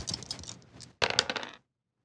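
Dice rattle and clatter across a hard tabletop during a tabletop role-playing game, in two quick bursts of clicking tumbles that stop abruptly into silence, close and crisp with no talking.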